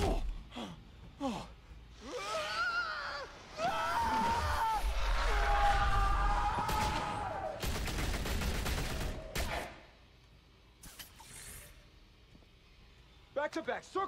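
Gunfire in the Batman Telltale Series video game, with loud bursts of shots and gasps in the middle stretch, then a few short sharp cracks near the end.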